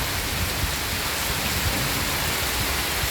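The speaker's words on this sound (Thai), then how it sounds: "ไปฟังเสียงฟ้าเสียงฝนกันนะคะ" Heavy rain pours down in a dense, steady roar with a low rumble of thunder underneath, constant and enveloping throughout.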